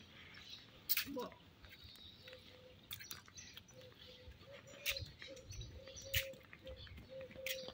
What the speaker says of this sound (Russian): Наверное, слышно будет, как тут птички поют.